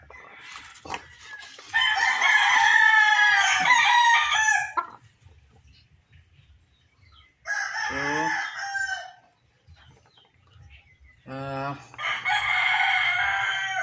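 A fighting rooster with a cough crows loudly three times, each crow followed by clucking, close by, with no talk over it.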